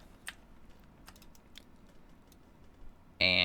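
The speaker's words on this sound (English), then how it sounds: "Whoops, if I could type." Brief, light taps on a computer keyboard, a few sparse keystrokes close by and quiet, with no voices.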